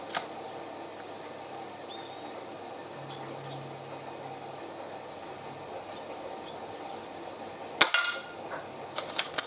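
A Benjamin Trail NP MK2 gas ram air pistol fires pellets outdoors: one sharp snap at the start, another faint crack a few seconds later, then a loud close report followed by rattling clicks and further short pops.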